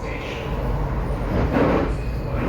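A Delhi metro train rolls into a station, a continuous low rumble that swells in the middle, with faint wheel hiss and no talking.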